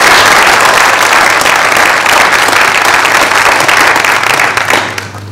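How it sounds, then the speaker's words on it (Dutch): Sustained applause from a conference audience after a panel discussion, dense steady clapping filling the hall at full strength, then thinning slightly at the end, with no talk over it. "Hartelijk applaus voor het panel."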